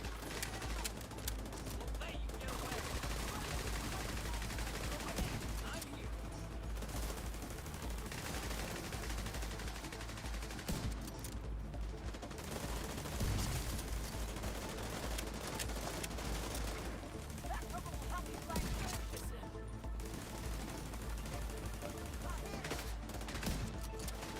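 Rapid, dense gunfire from The Division 2 shooter game, bursts of automatic weapon fire rattling continuously at steady loudness with game sound effects layered throughout.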